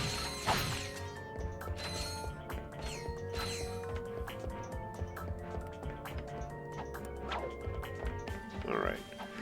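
Elevator machinery from Ratchet and Clank 2, rising with steady mechanical clanking, ratcheting ticks and a low motor hum, running under people talking throughout.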